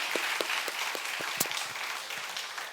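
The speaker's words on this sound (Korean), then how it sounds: "우리 박수로 축복하겠습니다" A church congregation applauds together during a Sunday worship service, honoring members who stand; steady, moderately loud clapping with a few sharper individual claps, heard alone without talk.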